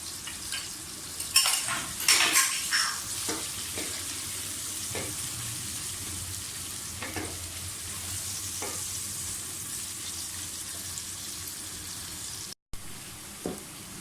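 Onions and ginger frying in a pan for a handi seekh kabab masala, a steady soft sizzle with intermittent stirring scrapes and utensil clinks, louder clatter early on, no talking.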